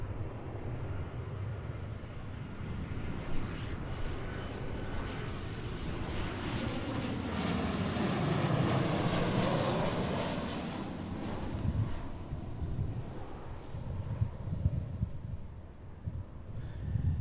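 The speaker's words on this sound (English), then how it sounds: "Here's our flight from Anchorage, little 737-700." An Alaska Boeing 737-700 arriving from Anchorage lands at Seattle airport, its jet engine rumble swelling to a loud whining peak as it passes close by, then fading into a softer distant roar.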